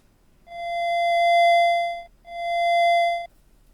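A hollow, reedy square-wave theremin tone sounds twice, the first held longer, separated by a brief pause.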